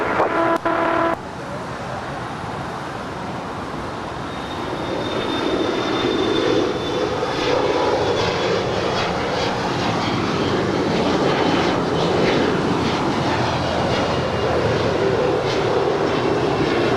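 A JetBlue airliner takes off from runway 25 right at Los Angeles International Airport, its engine roar steady and loud, then swelling and holding as the jet accelerates, with no talk.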